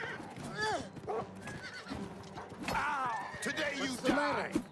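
A horse neighs and whinnies repeatedly in the game Oblivion Remastered, with clopping hooves and combat noise around it, close and fairly loud, while voices speak at points.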